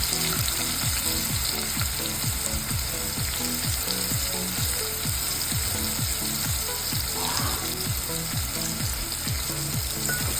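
Ginger garlic chili paste and onion frying for paya soup, a steady loud sizzle with a regular ticking, ratchet-like scrape repeating throughout and no voices.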